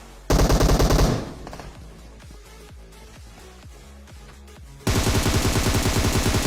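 Automatic gunfire in the video game PUBG: two loud, rapid full-auto bursts bracket a stretch of quieter, spaced single shots in between, close and punchy with no speech.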